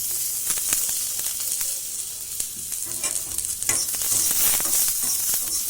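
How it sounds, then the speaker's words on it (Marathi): Onion frying in a little oil for methi muthiya, a steady close hiss and sizzle with scattered crackles and occasional stirring taps throughout. "कांदा भाजताना आपण त्यात थोडं तेल घालू"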